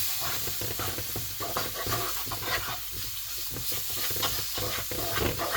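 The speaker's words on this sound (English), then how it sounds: "we're going to add our seasoning mix that we've got here, straight in" Seasoning mix tipped into a hot pan for a bean curry, sizzling steadily while being stirred into a paste, with soft scraping strokes of a spoon over a quiet, close hiss.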